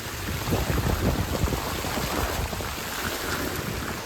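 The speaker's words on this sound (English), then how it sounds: "it started raining pretty good here" Heavy rain falls in spring wilderness during ice-out onto a camper sheltering under a canoe propped in a tree, making a dense, continuous patter and hiss close by.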